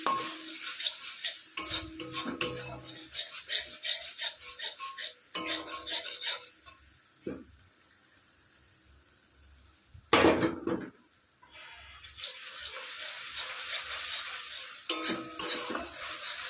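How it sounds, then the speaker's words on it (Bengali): Spice paste with onion and tomato ketchup is sautéed in a pan for jackfruit kopta curry: repeated metal spatula scrapes and clinks against the pan over a light sizzle, with a quieter pause midway before the stirring resumes. "এই যে এবার মশলাটা কষিয়ে নেব ভালো করে।"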